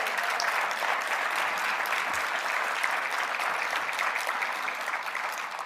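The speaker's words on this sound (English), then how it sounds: "can everyone please give Alan a round of applause?" Sustained audience applause in a conference hall, a dense steady clatter of many hands clapping at once that holds for several seconds and eases slightly at the end.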